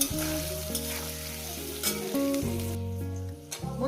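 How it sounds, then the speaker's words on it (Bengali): Mrigal fish sizzles steadily in a hot pan for a mustard, ginger and cumin curry, a continuous frying crackle running under sustained background musical tones, with no talking. "এবার এটাকে আমি সুন্দর করে প্রায় ভাজার মধ্যে সিদ্ধ করে নেব।"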